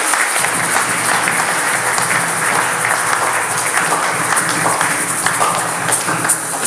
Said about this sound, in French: Sous les acclamations